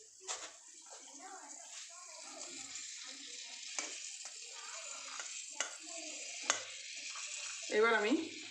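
Lentils fry in hot oil at home for chanachur, giving a soft bubbling sizzle with scattered spatters and a brief louder burst near the end. Someone speaks over the cooking.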